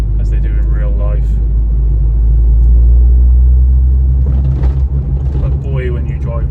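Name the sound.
Ford Focus ST225 5-cylinder engine while driving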